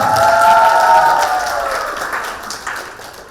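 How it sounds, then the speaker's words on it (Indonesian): A crowd claps for a team during a high school prom night quiz game, applause that starts loud and gradually thins out, with a sustained tone sounding over it early on. "Tepuk tangan untuk tim A semuanya."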